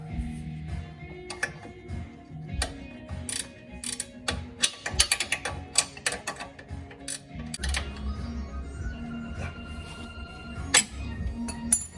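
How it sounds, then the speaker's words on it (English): A 14 mm wrench ratchets and clinks while fitting the sway bar end link on a 2001-2006 Hyundai Elantra, irregular metallic clicks and taps with short ratcheting bursts, close and fairly loud, no talk. "I just need to put on the sway bar end link. Again, this is the 14 millimeter."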